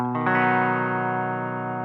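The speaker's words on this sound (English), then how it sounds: "This is just a clean tone, and I'm using the bridge pickup here just for these sections." A single electric guitar chord on the bridge pickup with no overdrive or distortion, strummed slowly so the strings sound one after another, then ringing out clean and sustained.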